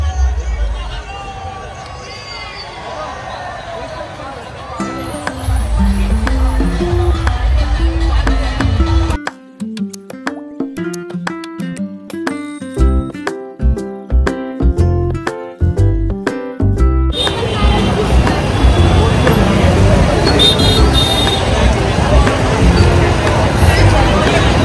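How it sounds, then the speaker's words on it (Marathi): A large, dense crowd at the Rang Panchami colour festival in Nashik fills the air with loud, continuous babble, shouts and street noise. Rhythmic music cuts through partway, and nearby voices talk over it. "केवढी गर्दी आहे."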